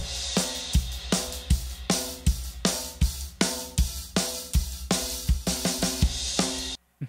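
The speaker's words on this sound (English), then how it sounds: "what I mean is a beat that sounds like this." Basic old-fashioned rock and roll drum groove on a kit, a steady backbeat of kick, sharp snare hits and cymbal pulses repeating evenly for several bars, loud and close, ending abruptly.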